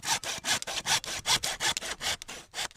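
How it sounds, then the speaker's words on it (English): A handsaw rasps through a bamboo stalk in quick, steady back-and-forth strokes, about a dozen cuts close up with no talking. "He uses a handsaw to cut off the end of the stalk."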